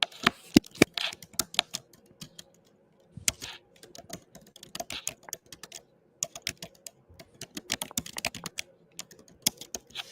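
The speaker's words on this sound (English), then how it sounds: "Let me make sure I type this in the comment" Someone types on a computer keyboard, and the close, crisp key clicks come in quick irregular bursts separated by short pauses.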